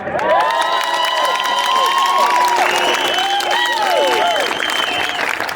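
At a Calgary freedom rally, a large outdoor crowd claps, cheers and whistles loudly for firefighter Tim Moen as he is introduced, a sustained, close roar of hands with high whistles and shouts over it.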